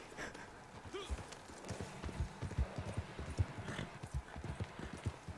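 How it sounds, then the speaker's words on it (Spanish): Horse hooves clip-clop in a steady trotting rhythm on the ground in the video game Red Dead Online, quiet and close, with a brief whinny early on and faint speech nearby. "¡Caballo!"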